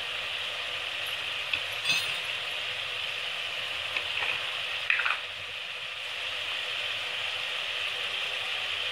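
Mutton liver masala (kaleji) frying in a pan, a continuous bright sizzle with a few faint clinks of a utensil, moderately loud and steady throughout.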